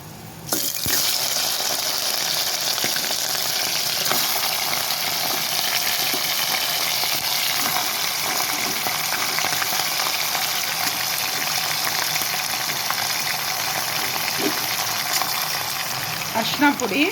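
Mutton head pieces fry in hot oil with a clove of garlic in a pressure cooker, giving a loud, continuous sizzle with bubbling and crackle that runs unbroken for the whole stretch, opening with a sudden burst.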